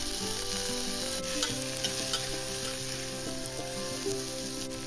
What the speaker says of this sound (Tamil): வெங்காயம் இஞ்சி பூண்டு எல்லாத்தையும் ஒன்றாவே சேர்த்து வதக்கி எடுத்துக்கலாம்